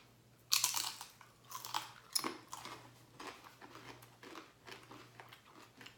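Crunchy chewing of vegan nachos up close, starting with a sharp bite and continuing as repeated crisp crunches that fade gradually over several seconds, under a faint low hum, with no talking.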